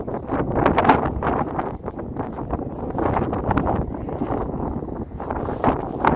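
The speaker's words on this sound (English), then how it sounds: "So the wind seems to be getting up" Wind gusts buffet the microphone in an outdoor cemetery, rising and falling in rough, low rumbling bursts close to the mic with no other clear sounds.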